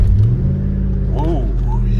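A lifted 1998 Ford F-150 regular cab short bed 4x4 runs with a steady, deep engine drone that swells under revving, with a brief voice speaking over it midway.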